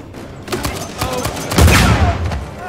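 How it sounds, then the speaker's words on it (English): Gunfire rattles through a firefight in the video game Uncharted 4: a rapid string of sharp, close shots, then a heavier burst and a deep boom toward the end, with a voice speaking briefly underneath. "What a firefight."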